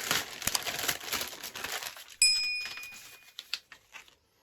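A large plastic package from a STALKER mystery box is opened by hand, crinkling and rustling up close in dense bursts, then a sharp rip followed by scattered crackles that trail off to quiet.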